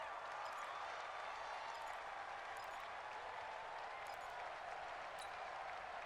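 Steady roar of a stadium crowd in the Madden American football video game, a continuous hissing wash of cheering and applause at low level, unbroken for several seconds with no talk.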